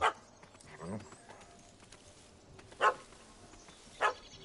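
A dog in The Witcher 3 barks at a cat up a tree, giving a few short, sharp, separate barks against quiet background ambience.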